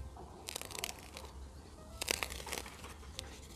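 A knife slices through plastic mulch film stretched over a carrot-field bed, giving a few short crinkling, scratchy bursts close by with pauses between cuts.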